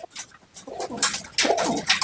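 Racing pigeons coo softly in a loft in several overlapping murmurs, with a few rustling wing and shuffling sounds nearby.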